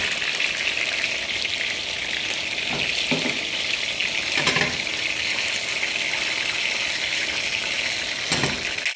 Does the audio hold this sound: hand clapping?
no